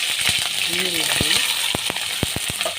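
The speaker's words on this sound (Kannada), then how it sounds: "ಎಲ್ಲವನ್ನು ಹಾಕಿ ಚೆನ್ನಾಗಿ ಫ್ರೈ ಮಾಡೋಣ. ಕಂದು ಬರುವವರೆಗೆ ಫ್ರೈ ಮಾಡೋಣ." Onions, green chillies, chana dal, urad dal and curry leaves fry in a pan for upma, a steady sizzle broken by several sharp clicks and taps of a spoon stirring against the pan.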